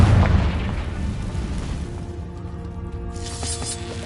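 A Confringo explosive spell blast in Hogwarts Legacy goes off with a heavy boom, then a rumbling tail slowly fades away over several seconds.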